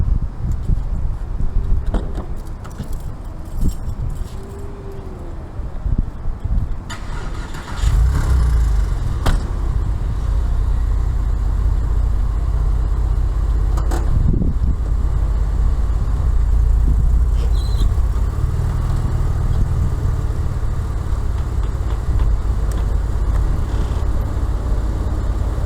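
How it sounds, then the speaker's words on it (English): Porsche 996 convertible lowering its power drop top and raising its rear spoiler, a motorized whir that steps up partway through and holds as a steady electric hum for the rest, alone with no voices. "Let's put the drop top down and the spoiler up."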